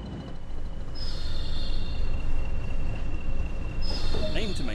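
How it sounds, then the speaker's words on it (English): A BR Class 20 diesel locomotive coasting with power reduced, hauling wagons on the Tees Valley Line in Train Sim World 2020: a steady, fairly loud rolling rumble with faint whining tones and brief higher squeals near the end. "Reduce the power and allow the train to coast."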